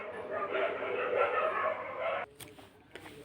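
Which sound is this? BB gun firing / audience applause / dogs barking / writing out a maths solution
dogs barking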